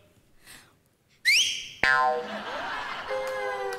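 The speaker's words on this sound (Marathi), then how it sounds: "माझ्या घरात शिट्टी मीच वाजवली" A person whistles a sharp, rising whistle that bursts out loud, then a second whistle swoops through several pitches before settling into a steady tone, close by with little else around it.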